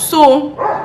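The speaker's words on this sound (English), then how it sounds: "Why is this dog barking?" A dog barks once or twice in quick succession, close and fairly loud, mixed in with someone talking indoors.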